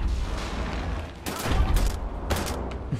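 Pistol shots from Nazi soldiers in the video game Wolfenstein: The New Order, a few sharp, loud reports over about three seconds, with clusters of bursts against a steady rumbling game background.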